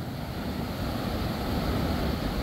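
Tropical ocean surf at a beach resort in Marshall, Liberia, a steady broadband wash of waves with some wind rush, continuous and fairly soft, with no voices.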